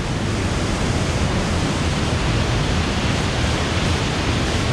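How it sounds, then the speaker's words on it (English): A small waterfall at the top of a cliff near Florián, Colombia, a dense, steady rush of falling water heard close up, with no voices. "This is the small waterfall at the very top."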